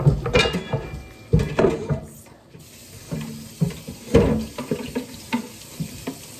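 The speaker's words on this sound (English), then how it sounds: "Rinse the onion off real quick." Tap water runs over a chopped onion in a kitchen sink, heard close and fairly loud in uneven splashing bursts with brief pauses.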